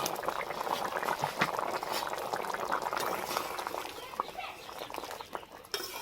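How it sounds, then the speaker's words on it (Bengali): Fried pointed gourd fritters simmer briefly in a potato curry, giving a steady close bubbling and popping boil, with a voice talking over it. "বড়াগুলো দিয়ে আমি বেশিক্ষণ ফোটাবো না, অল্প কিছুক্ষণ ফুটিয়ে নামিয়ে নেব।"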